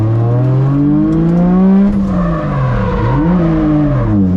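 A competition car drives close and loud, its engine note rising steadily, then dropping and climbing again as the driver lifts and gets back on the throttle, with no talking over it.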